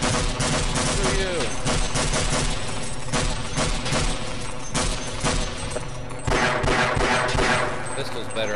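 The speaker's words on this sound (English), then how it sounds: "Oh, I'm getting shot at!" Dense gunfire from the Half-Life video game, with rapid bursts and single shots in a continuous barrage and a break near the end. A voice talks over the shooting.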